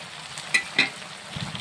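A brief, soft sizzle and bubbling from a pan of simmering mixed vegetables, including potato, carrot, peas and eggplant, with a couple of quick clinks of a utensil, close by.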